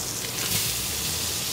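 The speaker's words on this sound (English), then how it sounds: "And there's that beautiful golden sizzle and that color you would expect with a blackened fish." A blackened fish fillet sizzles and fries steadily in a hot pan, a close, even crackling hiss that fills the whole moment without any talk.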